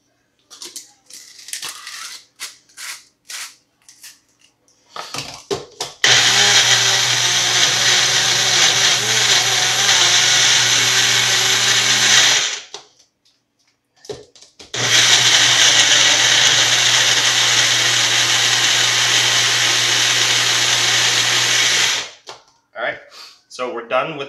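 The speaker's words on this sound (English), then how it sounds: "So we're done with the magic bullet now" A Magic Bullet blender whirring through fresh strawberries for mousse in two long loud runs of several seconds each, separated by a pause, with clatter and handling noises before, between and after.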